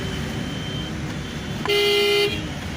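A single car horn blares for about half a second in Bangladeshi road traffic, loud and steady against a constant rumble of engines and road noise.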